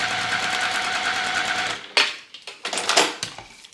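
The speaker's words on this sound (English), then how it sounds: "I sew that one from top to bottom" A domestic sewing machine stitches quilt pieces cut from a 1930s-style charm pack in a steady, close, fast whir that stops partway, followed by a few scattered handling clicks and rustles.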